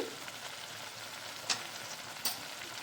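Spices sauté in a pan with pointed gourd and prawns, a soft continuous sizzle with two brief louder sputters of stirring.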